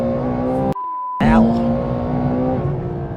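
A Ferrari F12 TDF with traction control off revs hard on track, a loud engine roar that cuts out briefly during a shift, then surges back and holds a high sustained note.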